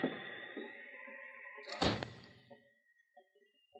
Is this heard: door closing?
yes